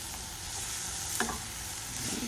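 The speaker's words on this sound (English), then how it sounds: "I'm just going to saute this for an additional minute or 2" Mushrooms, melting butter and flour sizzle steadily in a pan while a spoon stirs them into a roux, making a soft constant frying hiss with an occasional faint scrape and no talking.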